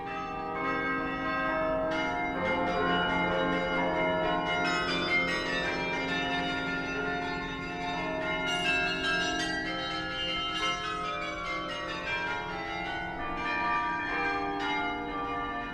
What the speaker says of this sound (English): his love of King João V's unrivaled carillon